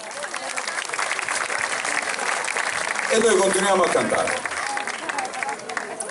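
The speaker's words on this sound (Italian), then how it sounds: "facciamo un applauso" Concert crowd at a live Italian orchestra show applauding, a steady wash of clapping and cheering with someone speaking Italian over it and a brief swell midway.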